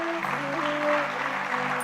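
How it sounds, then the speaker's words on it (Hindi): Audience applause at a youth conference on the magic of silence, a short burst of clapping at moderate level with a sustained tonal hum and faint voices behind it. "एक बार चाहूंगा कि जोरदार तालियां हो जाए आप सभी महानुभावों के लिए।"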